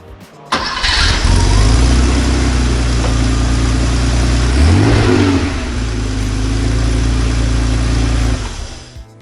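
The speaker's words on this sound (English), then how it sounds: "This car does happen to have a custom exhaust, which makes it sound great" A 1957 Porsche Speedster fitted with a custom exhaust starts and revs loudly close by, a deep steady engine note rising in a swell around the middle before settling back to a strong idle, with no talking.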